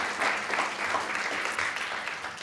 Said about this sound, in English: Let's give all of these donors a round of applause.